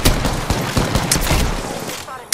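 Rapid bursts of gunfire in Apex Legends, loud and close, with several sharp shots crowding together over about two seconds while players talk over the fight.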